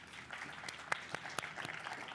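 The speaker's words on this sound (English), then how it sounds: "a big round of applause for Simon" Audience clapping for a speaker at a travel and tourism conference plenary session, faint, scattered claps from a distance in a large room, tapering quickly.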